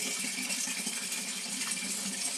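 Water from a weak household tap running steadily into a container to store it for bathing, a continuous close gushing hiss with no talk.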